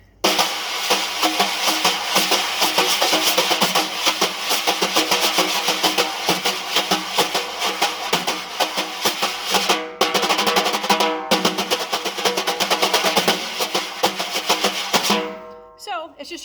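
Vic Firth split wire brushes swish and tap on a drum in a steady, busy pattern for most of the passage, close and fairly loud, with brief pauses before the final strokes fade out.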